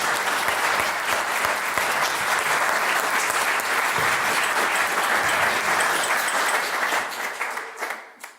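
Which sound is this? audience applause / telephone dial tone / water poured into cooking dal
audience applause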